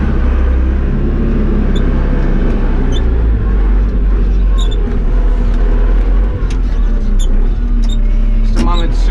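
A loud, steady low engine rumble runs throughout, a heavy CRS tractor motor idling close by with little change in pitch.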